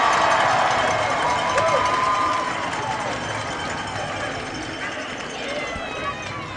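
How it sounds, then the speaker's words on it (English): A hockey arena crowd roars and cheers during a fight between two players, a loud, steady wall of broadband noise sustained across the whole stretch, easing slightly toward the end. "Crowd loves it."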